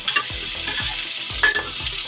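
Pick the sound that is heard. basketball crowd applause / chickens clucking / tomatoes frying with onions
tomatoes frying with onions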